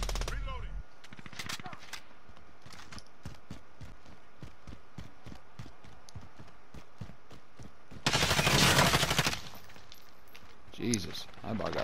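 Rapid gunfire in a first-person shooter match, with steady trains of distant shots and footstep-like thuds throughout, then a louder, dense burst near the end; someone talks over parts of it.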